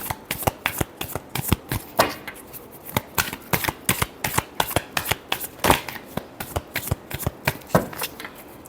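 Tarot cards being shuffled by hand, a rapid run of crisp riffling flicks and slaps repeating close up for several seconds, with no talking.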